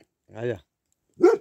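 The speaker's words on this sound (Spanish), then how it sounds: "con el perrancón pues no nos deja hablar nada" A dog barks twice, close by, two short harmonic bursts about a second apart with quiet between them, around a home where a wooden rustic staircase is being built and a barbecue is underway.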